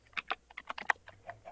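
Keys tapped on a computer keyboard, about a dozen quick distinct clicks in an uneven typing rhythm, close and fairly quiet with no talk.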